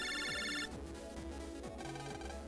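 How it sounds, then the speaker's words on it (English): Phone rings in the Mega Man Battle Network game, a bright electronic trill that gives way to a looping melodic ringtone over steady game music, loud and continuous. "Lan, you got another phone call."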